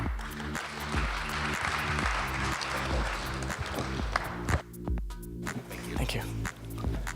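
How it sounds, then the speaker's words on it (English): Applause from a tech conference audience welcoming a speaker to the stage, a steady wash of clapping with a rhythmic musical beat running underneath, sustained and fairly loud throughout. "Ladies and gentlemen, please have a round of applause for Hikaru Kusaka"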